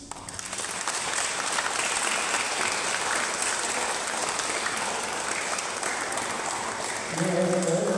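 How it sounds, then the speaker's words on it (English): Wedding guests give a warm round of applause for a newly married couple, a dense, sustained wash of clapping that builds quickly and holds steady, with a voice and music returning at the end. "Let us give them a warm applause."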